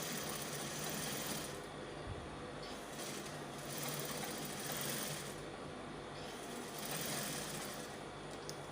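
A sewing machine stitches the side seam of a dress lining with a half-centimetre seam allowance, running steadily and close by with a continuous whirring hum across the whole stretch, easing briefly a few times.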